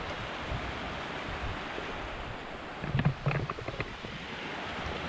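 Water flows steadily over a small weir in front of a house in rural northeastern Thailand after heavy rain, giving a constant broadband rush with a few brief louder splashes midway and no talking.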